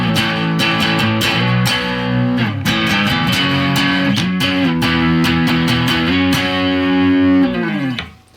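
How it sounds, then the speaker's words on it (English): Electric guitar through a Boss DS-1 distortion pedal modded with LEDs in place of the clipping diodes, loud saturated chords strummed repeatedly over about eight seconds with sustained buzzing harmonics, then cutting off at the end. "So let's take a listen through our distortion sweep with the LEDs in place of the"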